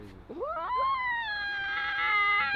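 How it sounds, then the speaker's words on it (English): A tiger lets out a close, loud, sustained cat-like yowl that rises into a strained, tonal cry. "Why does a tiger sound like a dinosaur?"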